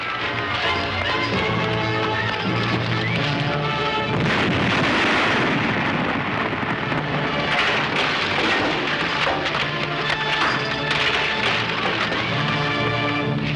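Explosion in an old western film, a heavy, rumbling boom that swells and lingers under a dense, noisy soundtrack with crackling debris and a continuous wash of background sound, loud and muffled rather than sharp.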